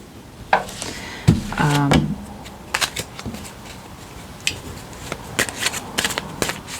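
A deck of cards being shuffled up close, with riffling bursts and taps and a brief zipping riffle near the start, then scattered softer handling clicks, with no talking.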